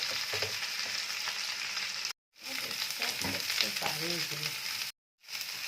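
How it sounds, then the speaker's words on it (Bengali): Jackfruit pieces frying lightly in hot oil give a steady close sizzle and crackle, with occasional stirring clinks and two brief breaks in the sound. "একটুখানি হালকা করে ভেজে নিচ্ছি।"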